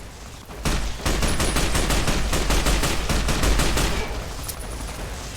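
Enemy gunfire in Fallout: New Vegas bursts out suddenly as a rapid, loud volley of shots, evenly spaced automatic fire lasting several seconds before tapering off near the end.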